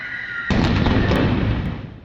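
A sudden loud blast erupts and keeps roaring as a broad rumble of gunfire and explosions dispersing a crowd of protesters in Energodar, after a brief quieter hum beforehand.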